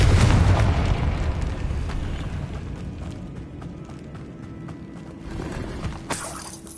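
A Confringo fire spell explodes in the Hogwarts Legacy video game, a loud booming burst at the start whose rumble slowly fades into a hissing tail, with a small pop and crackle near the end.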